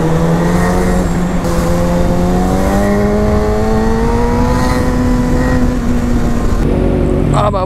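A superbike's engine revving loud and close, its pitch climbing steadily as it rides past, with a sharp shift near the end and constant traffic rumble beneath.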